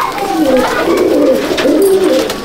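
An old Indian breed of pigeon at Ichhapur gives a close, loud, rolling coo that swells and dips over a couple of seconds, heard on its own.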